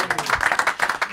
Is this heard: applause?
yes